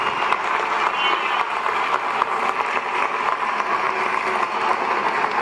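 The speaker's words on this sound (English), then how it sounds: "A round of applause, please." Steady, dense applause from a large crowd at the Miss Africa WA State 2018 pageant, sustained clapping filling the whole stretch without pause.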